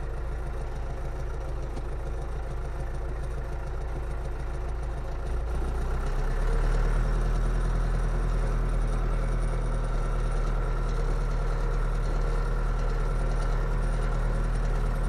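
A John Deere tractor engine heard from the seat while ploughing a field on the Isle of Man, a steady low droning rumble that deepens and thickens about six seconds in and keeps running without a break.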